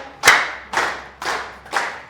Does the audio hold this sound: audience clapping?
yes